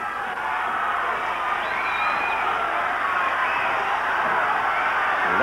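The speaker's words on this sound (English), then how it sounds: "And the crowd really urging him on to get this winner." Crowd at a wrestling bout, a steady loud roar of cheering and urging on, with scattered whoops and a commentator's voice faintly under it.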